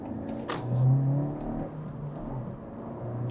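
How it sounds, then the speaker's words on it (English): A Honda Civic Si with a 1.5 turbo engine rev-matches on a downshift while driving on the road, a brief rising engine swell heard from inside the car against steady road noise. "Oh, love that rev matching."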